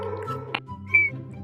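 A person attempts to whistle and manages only a brief, thin, wavering note lasting a split second. It sits over a low, steady background hum.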